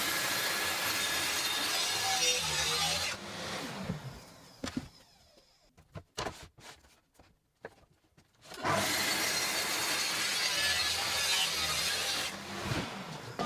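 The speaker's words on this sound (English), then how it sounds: "The track saw won't quite go through the full depth or reach all the way to the back, but it gets the bulk of the cut done" A track saw rips through a workshop wall with a loud, steady grinding roar, stops for a few seconds of knocks and handling, then starts cutting again.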